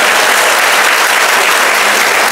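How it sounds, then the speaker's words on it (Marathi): A crowd at a public talk in Maharashtra gives sustained, vigorous clapping. The applause is a steady wash for a couple of seconds, loud and close, with no speech on top. "आणि आता एकदा टाळ्या होत्या माझ्यासाठी"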